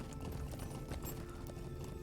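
Horse hooves clip-clop in a quick, steady rhythm in the online game The Lord of the Rings Online, close and continuous, with no talk.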